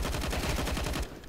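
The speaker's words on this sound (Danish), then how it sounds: "Det bliver skudt i siden af hovedet og ryger desværre ned" Rapid gunfire in Counter-Strike on the Mirage map during a league match, a dense burst of close, loud shots in quick succession that cuts off after about a second.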